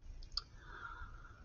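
A computer mouse clicks during an interactive chemistry activity, a single sharp faint click standing out over a quiet, hissy room background with no talking.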